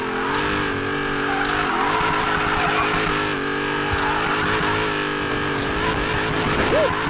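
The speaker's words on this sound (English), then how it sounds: "This is what drifting is about." Dodge Hellcat drifting with engine roaring at high revs and tires squealing continuously, loud and close, the pitch wavering as the car slides through the turns.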